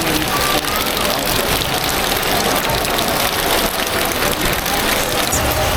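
Steady rain falls outdoors at Perlas ng Silangan in Tagaytay, a dense, even hiss that runs without a break, with a low engine-like rumble underneath.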